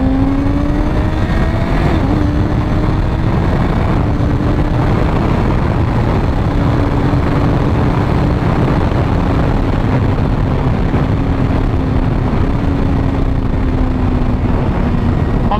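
An SBK-tuned Kawasaki ZX6R motorcycle is ridden fast, its loud engine droning at high revs with a slowly wavering pitch and a brief shift near the start, all under constant rushing wind.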